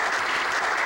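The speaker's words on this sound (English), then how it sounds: "A little more applause, a little more" Studio audience applause at a 25th anniversary show, a brief dense burst of clapping from a crowd, steady and fairly loud.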